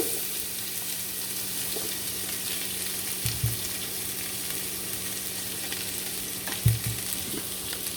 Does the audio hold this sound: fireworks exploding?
no